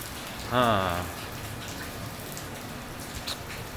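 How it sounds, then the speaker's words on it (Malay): Steady, dense patter of heavy morning rain in Penang hissing throughout, with a short voice breaking in near the start. "Hujan lebat pula."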